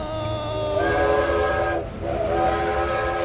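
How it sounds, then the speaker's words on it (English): A train horn blares as a sound effect for an audio horror drama, a long sustained wail of layered tones that dips briefly in the middle before sounding again, loud and close over a low rumble. "The train's blaring cry muffled Bob's voice"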